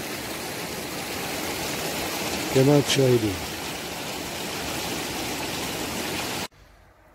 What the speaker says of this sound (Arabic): تسير المياه من الأعلى هناك وتجري في هذا المجرى المائي الصغير أو النهر الصغير